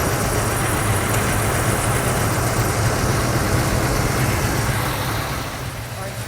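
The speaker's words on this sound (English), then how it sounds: "I think that's the alternator I'm hearing." A Ford Mustang Mach 1 engine idles steadily and close, a continuous low rumble with a faint whining belt noise from the alternator, the level dipping slightly near the end.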